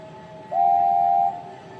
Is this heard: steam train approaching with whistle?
yes